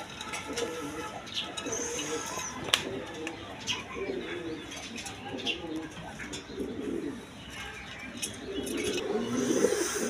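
Several pigeons coo in soft, repeated throaty phrases at a bird seller's stall, with scattered chirps from other birds and low background noise throughout.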